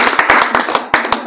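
Crowd of supporters clapping at a political party joining event in Jajpur, Odisha; brisk, irregular claps close by, dense and steady for about a second with no talk over them.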